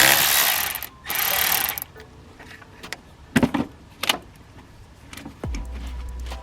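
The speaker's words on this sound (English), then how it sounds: "Loosen my battery right here." A ratchet works on the battery terminal of a 2005–2007 Ford F-250/F-350 with a 6.0 Powerstroke. Bursts of clicking and mechanical rattles come close and intermittently, then a low hum sets in at the end.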